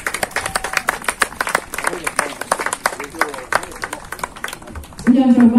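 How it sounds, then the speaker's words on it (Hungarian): Spectators at an equestrian carriage-driving competition in Újkígyós clap for the winning drivers, with scattered, uneven outdoor applause heard at some distance; a voice speaks over a loudspeaker at the end. "Jogos a taps, ha köszöntjük őket."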